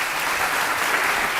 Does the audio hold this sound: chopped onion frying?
no